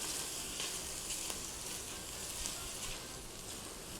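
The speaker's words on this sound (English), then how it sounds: "we're gonna add in some minced garlic. And I'm just keeping that moving because I don't want the garlic to fry in the oil" Minced garlic sizzles steadily in hot oil in a pan, a dense, even frying hiss with faint scrapes as it is stirred.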